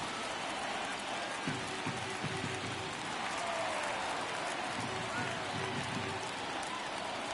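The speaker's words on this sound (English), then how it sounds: "Elephant Man trying to get the crowd going for Oakland." A stadium crowd in a baseball video game, an Oakland A's home game, keeps up a steady wash of noise with faint rhythmic chanting rising twice in the background.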